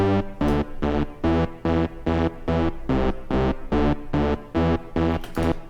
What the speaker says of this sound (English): Very simple off bass, only playing the root notes